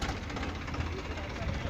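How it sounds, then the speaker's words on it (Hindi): A tractor fitted with a rotavator runs in a farm field, its engine giving a steady, loud, close rumble that holds without a break. "ये रोटावेटर ट्रैक्टर है दोस्तों। ये काफ़ी अच्छा जुताई करता है खेत को"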